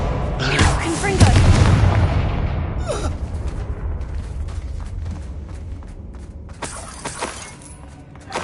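A Confringo spell explosion in Hogwarts Legacy, a loud booming blast with shattering debris that decays into rumble, followed by further sharp bursts near the end, with game voices mixed in.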